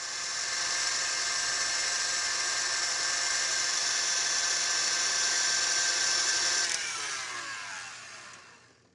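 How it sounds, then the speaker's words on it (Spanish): An electric mixer whips egg whites as sugar is added, a loud steady high whine held for several seconds before winding down and fading out, with no talk. "Voy a batir antes las claras. Y además voy añadiendo 6 cucharadas de azúcar poco a poco mientras aumento la velocidad."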